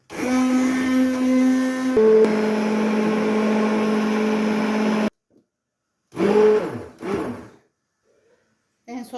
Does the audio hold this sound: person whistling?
no